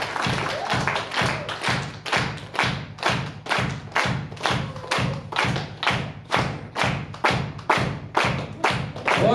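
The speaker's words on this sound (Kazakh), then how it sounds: "бір 30 секунд бір шапалақ соғып берейікші анамызға" Guests at a mother's 60th birthday celebration clap in unison with steady, evenly spaced beats, a little over two per second, that carry on for the whole stretch.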